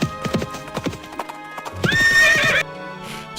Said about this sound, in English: he heard the distant thunder of galloping horses